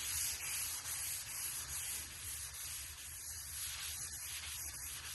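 Wet sanding paint by hand on a 1958 Dodge crew cab, a close, continuous gritty rubbing with steady back-and-forth scuffing and a soft wet hiss, quiet and unbroken.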